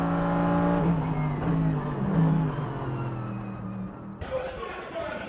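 Ferrari 430 GT3 Challenge race car engine, heard close from inside, revving high with shifting pitch then dropping, followed by a rougher drone, with talk over parts of it.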